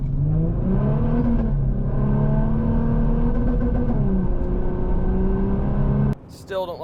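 A VW Touareg 3.0 TDI with a turbo upgrade launches hard in drive mode, its diesel engine droning loud and steady with rising pitch through gear changes for about six seconds before cutting off abruptly.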